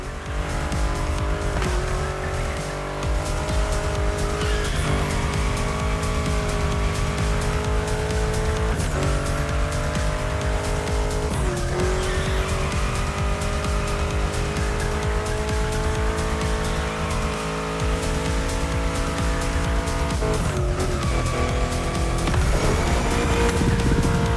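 A car drifts through bends in the racing video game The Crew Motorfest, with repeated loud tire squeals and skids over a constant engine roar, each slide swelling and easing in a steady rhythm.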